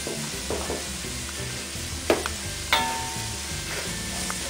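Shallots sweated until glossy, then dusted with two spoonfuls of flour, sizzle steadily in a pan. The frying hiss is close and continuous, broken by two sharp utensil clinks partway through, with no talking.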